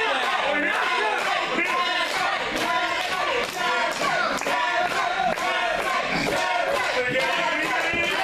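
A wrestling arena crowd roars and chants to rally El Jefe during a match between The Commission and Xcessive Force & Foreign Exchange, a steady loud wall of massed voices with rhythmic shouted pulses throughout.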